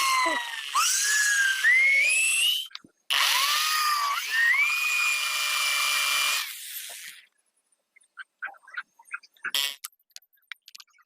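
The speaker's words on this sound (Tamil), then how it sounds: "இந்த மிஷினை வச்சு இதே மாடலை வச்சு ட்ரில் போட போகிறோம்" An electric drill boring holes whines in two long bursts, pitch rising as it spins up, followed by scattered clicks and taps.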